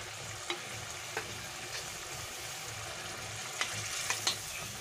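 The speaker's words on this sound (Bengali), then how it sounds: "এবারে এখানে আমি যে মাছগুলো ভেজে রেখেছিলাম একে একে এর মধ্যে দিয়ে দিচ্ছি।" Fried tangra fish pieces go one by one into a simmering spicy curry, a steady close sizzle and bubbling with a few soft clinks and plops of fish landing, no talking.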